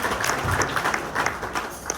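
A short round of applause from a community morning-meeting audience welcoming a fire protection company, with scattered, irregular claps and a few louder individual hits.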